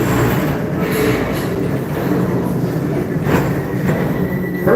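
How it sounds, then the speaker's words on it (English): Express train rolling along track at a Walt Disney theme park, a loud close continuous rumble of wheels on rail with faint rhythmic clacks and occasional high squeals, no voices. "your express train keeps on rolling through the future"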